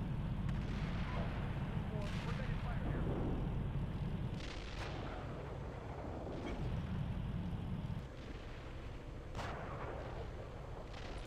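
ICM artillery rounds in the Steel Beasts Pro tank simulator land in a series of heavy rumbling booms and crackling bursts, several impacts spaced a few seconds apart, loud and sustained, with a voice talking over the barrage.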